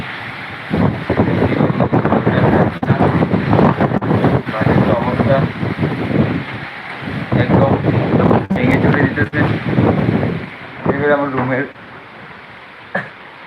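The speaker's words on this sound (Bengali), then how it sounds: "বৃষ্টি নেমে গেছে মনে হয় অনেক জুড়ে বাতাস হচ্ছে" Strong wind gusting during a thunderstorm with rain, a loud rushing roar buffeting the microphone at close range while a person talks over it almost throughout.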